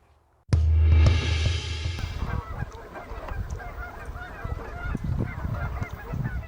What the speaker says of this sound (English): migratory birds have already gotten back into the area